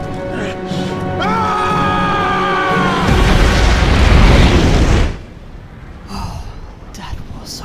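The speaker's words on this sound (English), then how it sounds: "You are about to explode." A cartoon-style explosion from an animated show erupts as a loud, sustained broadband roar lasting about two seconds, with a voice and tonal music before it and quieter trailing sounds after.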